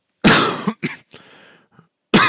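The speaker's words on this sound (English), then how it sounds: "I've still got a bit of a cough" A person coughs in a few harsh bursts, a long loud one followed by two shorter coughs and a throaty trailing rasp, then another loud cough at the end, close to the microphone with no other sound around it.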